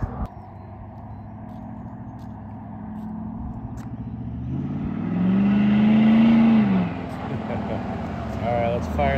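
A car passes on the road, its engine swelling for a few seconds and then fading over the low rumble of an idling vehicle, while people talk throughout.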